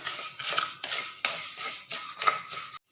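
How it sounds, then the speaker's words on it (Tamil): Rice being dry-roasted in a pan for idli powder, stirred with a metal spoon in about four rhythmic scraping strokes, close and fairly clear, ending abruptly. "அரிசி நல்லா பொரிஞ்சு வந்துருச்சு பாருங்கள்."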